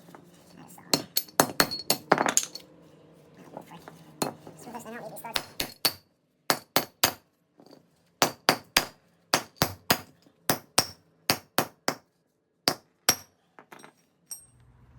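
Hammer knocking lug studs out of a Duramax brake hub, a long run of sharp metallic strikes, first irregular and then in a steady rhythm of about one blow per half second, close and loud, with speech in the early part.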